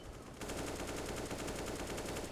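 Rapid, continuous automatic gunfire in a Counter-Strike match crackles in a dense, steady stream, loud and close, with no pauses across its length.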